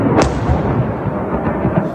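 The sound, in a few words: explosions from US airstrike on ammunition depot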